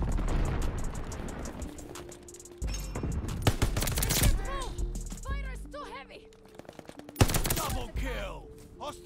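BAR rifle fire in a video game, with rapid bursts of automatic shots mixed with other weapons' fire and game effects, loud and close, under frequent excited talk.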